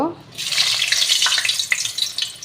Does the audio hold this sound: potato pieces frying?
yes